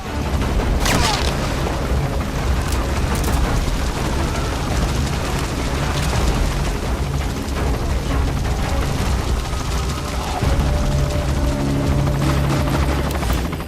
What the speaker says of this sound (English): That is not our helicopter, that's actually an enemy